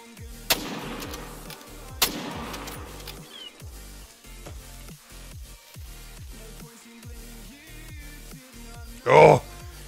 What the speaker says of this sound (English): Hey, I heard a gunshot. Let's go see what that was.